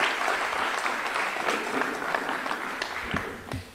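Sustained applause from an outdoor crowd honoring the Guatemalan minister of communications at a highway inspection event near Génova, Quetzaltenango, steady dense clapping that tapers slightly at the end.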